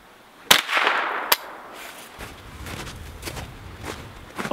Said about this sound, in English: I kind of want to shoot that ice.